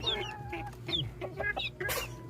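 Bantam chickens with feathered feet clucking close by, a quick run of short, bright, chattering clucks and calls that overlap over a low background hum, with no talking.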